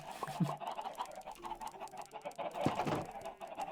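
Chickens clucking at a small nest in the video game Minecraft, a few short soft clucks and chirps scattered over a few seconds, fairly faint.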